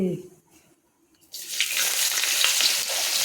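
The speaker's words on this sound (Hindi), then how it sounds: "ਕੜਾਈ ਵਿੱਚ ਤੇਲ ਪਾ ਲਿਆ ਤੇਲ ਆਪਣਾ ਗਰਮ ਹੋ ਚੁੱਕਿਆ ਹੈਗਾ ਤੇ ਲੋ ਜੀ ਆਪਾਂ ਇਹਦੇ ਵਿੱਚ ਪਾਉਣੇ ਆ प्याज हरिया मिर्चा" Onions and green chilies drop into hot oil in a kadai and start a loud, steady sizzle that runs to the end, after a quiet start with faint handling.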